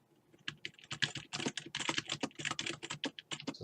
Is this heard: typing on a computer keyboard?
yes